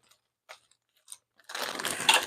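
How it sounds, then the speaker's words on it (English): Dogs crunching raw bow tie pasta in a home kitchen at dinner time: a few faint scattered crackles, then a dense, loud burst of crisp crunching and chewing close by, with no talk. "You hear that crunch, crunch, crunch? They're eating the raw pasta."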